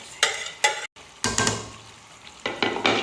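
A spoon stirs fried chicken into thickening masala gravy in a pan for Mughlai chicken changezi, giving bursts of scraping and wet sizzling in irregular strokes, close and fairly loud, with brief pauses between.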